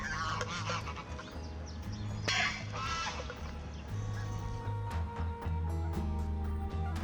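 Domestic geese mixed with swans and ducks at a pond, honking and clucking busily in an overlapping chorus of close, loud calls with a steady low hum beneath and no talk.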